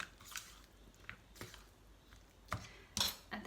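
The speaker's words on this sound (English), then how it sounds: "Stir in the pink loveliness into your treat bowl." Quiet clinks and soft scrapes of a spoon stirring a mixture in a bowl, a few irregular taps close by with no talking.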